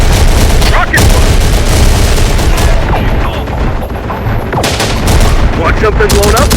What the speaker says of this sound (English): Firing launcher! Enemy fire!